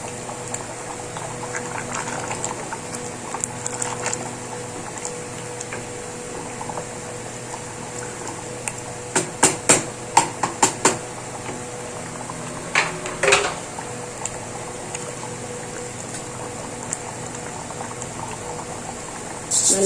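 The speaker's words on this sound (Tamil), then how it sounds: "நல்லா கொதிக்குது." A pot of mutton and eggplant curry bubbles steadily at a close, rolling boil, with a continuous simmering hiss and scattered louder pops and clicks of bursting bubbles midway; no one speaks.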